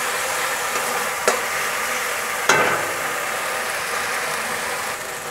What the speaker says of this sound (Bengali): দেখুন এটাকে এবার মশলাটাকে ভালোভাবে একটু কষিয়ে নেব কিছুক্ষণ